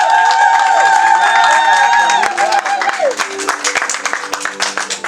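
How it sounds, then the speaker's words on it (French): An audience applauds at a confirmation ceremony for Pierre and Blandine, with dense loud clapping and cheering mixed with music that thins into scattered claps. "est-ce qu'on peut applaudir encore?"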